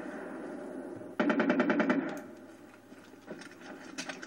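Automatic gunfire in the video game Far Cry 3: a fast burst of about ten rapid shots, loud and close, followed by scattered softer clicks and impacts.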